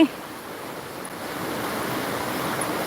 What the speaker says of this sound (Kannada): ನೋಡಿ ನೀರಿನ ಜುಳು ಜುಳು ಹರಿವು